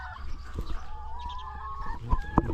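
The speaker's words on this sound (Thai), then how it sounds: "โซนบ่อป่าครับโซนไก่ไข่" Laying hens on a Thai farm cluck softly and continuously in the laying-hen area, a steady, moderately faint flock murmur with a couple of louder calls near the end and no talk over it.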